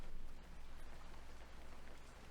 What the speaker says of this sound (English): Outside, the rain was letting up.